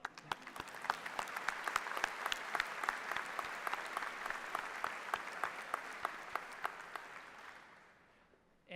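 A convocation audience applauds steadily in a large hall, dense clapping holding an even level for about eight seconds before thinning out and fading near the end.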